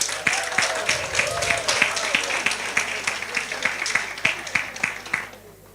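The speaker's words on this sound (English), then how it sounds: "Give yourselves a round of applause." Graduates at a certificate ceremony applaud, a steady crowd patter with distinct sharp claps standing out at a quick rhythm, moderately loud, before fading out at the end.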